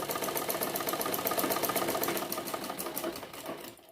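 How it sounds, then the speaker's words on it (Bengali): A sewing machine stitches the front panel of a bra-cut blouse, its rapid needle rattle running loud and steady, fading slightly toward the end, with no voices. "ডাবল করে প্রথমে একবার ঘুরিয়ে এভাবে আমরা সেলাই করে দেব"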